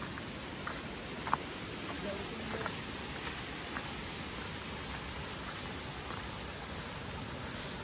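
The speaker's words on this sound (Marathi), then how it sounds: "इथे बघा पाणी, ही आपली नदी आहे." A river runs clear and full after heavy rain, near small check dams, making a steady, soft, rushing hiss in the distance, with faint voices now and then.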